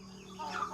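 Hens in a makeshift backyard chicken coop built in a corner of a shack, a brief burst of soft clucking with close, chattering bird calls, no talk.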